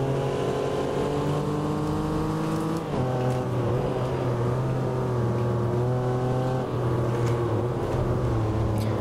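Steady engine drone of a Porsche Boxster with a six-speed manual gearbox in the Assetto Corsa racing game, holding a loud sustained tone, dipping at a gear change near the third second, then climbing again, with no talk over it.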